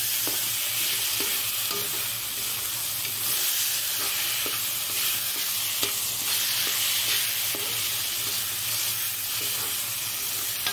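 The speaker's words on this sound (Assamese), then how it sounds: "চব্জিখন বহাইছোঁ, কচু খুৱাই লওঁ" Taro (kochu) vegetable frying in a pan, a steady close sizzle with repeated scraping stirs of a utensil against the pan, continuous throughout with no talking.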